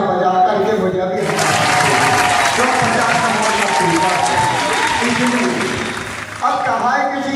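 Audience applause at a recital of a devotional love-story narration, a dense sustained clapping that fills most of the clip at close range, then thins near the end with speech-like sound over it.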